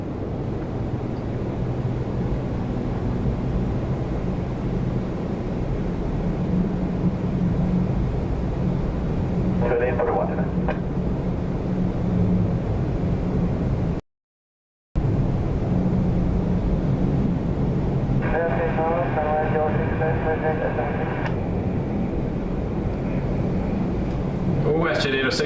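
An ITA Airbus A330-900 jet departs Toronto Pearson, its broad, steady engine roar filling the scene from start to end, with a brief dropout midway and people talking over it at times.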